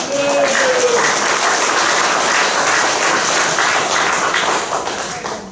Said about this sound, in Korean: 한번 감사하는 마음으로 박수 한번.